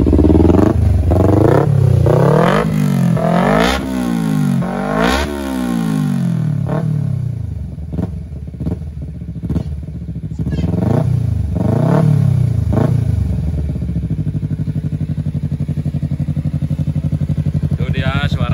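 A Kawasaki Ninja Fi 250 fitted with an aftermarket exhaust revs repeatedly up and down close by, each blip a rising, falling howl, before it settles into a steady idle.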